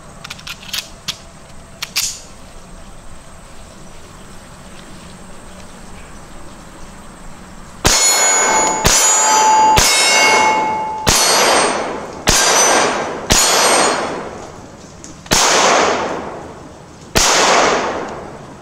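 Rock Island Armory FS Tac Ultra .45 ACP pistol fired at steel targets on a range: eight loud, sharp reports, each with a metallic ring that fades, spaced about one to two seconds apart after a quiet stretch with a few faint clicks.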